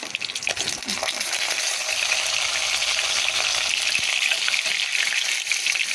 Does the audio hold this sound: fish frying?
yes